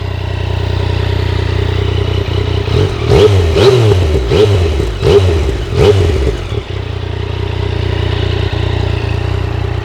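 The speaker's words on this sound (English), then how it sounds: "We'll give her a quick rev." A 2019 Yamaha MT-09 motorcycle idles close by, then gets several quick throttle blips in a row, each rev rising and falling sharply through the exhaust, before dropping back to a steady idle.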